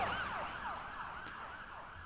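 An emergency vehicle siren wails past on the road, its rising and falling sweeps repeating steadily and staying loud throughout, heard from a car waiting as the emergency vehicles go by.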